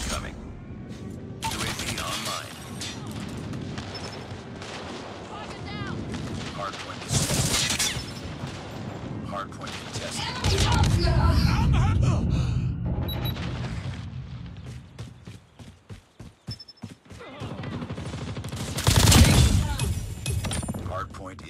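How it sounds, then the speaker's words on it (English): Gunfire and airstrike explosions in the Call of Duty Mobile hardpoint mode, with dense bursts of shots, heavy booms and rolling blasts throughout, and game voice lines heard between the barrages. "Friendly airstrike incoming."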